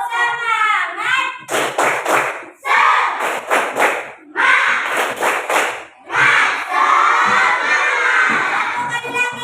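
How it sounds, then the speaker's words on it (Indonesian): Fifth-grade schoolchildren in a classroom shout a rhythmic spirit chant together, with bursts of clapping and thumps between loud group cries, several separate rounds close by. "kita tepuk semangat"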